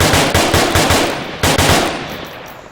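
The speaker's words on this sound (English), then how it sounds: "I use this when I use my machine guns." Rapid bursts of automatic machine-gun fire from the VR shooter Onward, played on an HTC Vive, come in quick rhythmic volleys with a short pause midway, loud and close, then tail off into reverberant decay.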